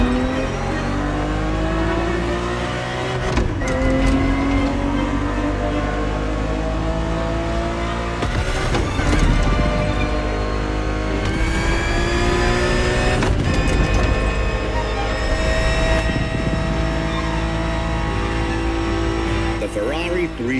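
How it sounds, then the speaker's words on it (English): A Ferrari 365 GTB4 in The Crew Motorfest racing game, its engine droning loudly and steadily with rising and falling revs through gear changes, a voice talking over the top. "Ferrari 365 GTB4 is the perfect vehicle for you to experience Ferrari racing as it felt back in the 70s"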